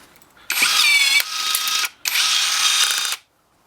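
A powered pop rivet gun from AliExpress fires two long bursts of buzzing, whirring mechanism, close and loud, separated by a brief pause.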